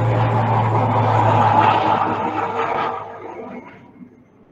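Airplane passing overhead near a home, a loud, broad engine roar that holds steady and then slowly fades as it moves away, heard alone.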